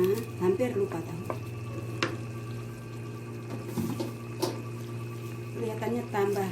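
Tofu going into a cassava leaf coconut milk soup and being stirred in a pot, with scraping stirs, light bubbling and splashing over a steady stove hum, while a person talks intermittently.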